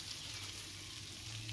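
Bacon strips sizzling flat under a weight on an outdoor griddle, a steady close crackling hiss that holds evenly with no voices.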